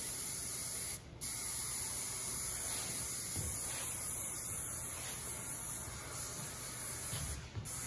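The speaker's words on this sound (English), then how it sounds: "We'll use a little bit of our working spray" Aerosol working spray hisses onto hair during a styling session, a loud close continuous spray with two brief pauses between bursts.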